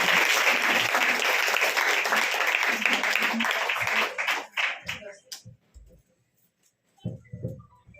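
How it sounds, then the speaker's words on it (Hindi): Congregation applause at a church healing service, a loud sustained burst of clapping that fades around the fourth second, leaving scattered claps and brief voices afterward. "जोरदार तालियों के साथ हम परमेश्वर की महिमा करेंगे।"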